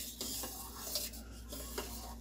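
Milk curdling in a pot is stirred with a spoon, producing faint soft scrapes and light clinks against the metal at a slow irregular pace over a quiet low hum.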